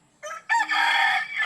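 Several chickens clucking with a rooster crowing close by, a short call first and then a long, loud crow that rings out on its own with no talk.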